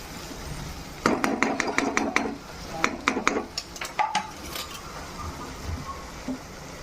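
Onions are stirred in a pan before prawns are added, giving a quick series of scraping, clinking utensil strokes against the pan followed by a few scattered softer taps, faint and close.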